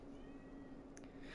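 A pet cat gives a single faint, short meow somewhere nearby, low under a steady background hum.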